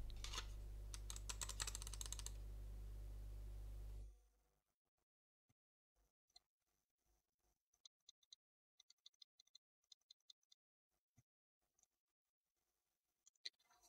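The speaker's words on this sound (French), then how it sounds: "Je vais maintenant cliquer avec ma souris qui est à environ 20 cm du micro" Sharp, isolated clicks of a computer mouse about 20 cm from a Fifine K658 microphone, sounding in an irregular series of faint taps over near silence, after a few seconds of loud, dense keyboard-like clatter.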